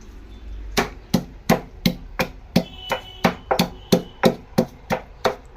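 Fresh ginger and garlic being pounded for masala in a stone mortar, about fifteen sharp, evenly spaced thuds in a steady close rhythm, with no one speaking.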